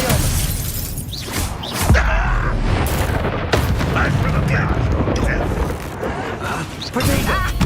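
Expelliarmus spell cast during combat in Hogwarts Legacy, loud magical bursts and crashing impacts layered over dense battle noise, with voices shouting throughout.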